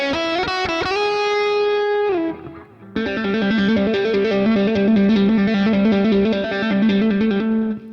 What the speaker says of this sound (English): The sort of wah effect is far lesser pronounced in this. That's just me rolling the tone knob